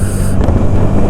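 Strong stormy wind buffets the microphone with a loud, continuous roar, blowing sand around on a trek near Pollachi.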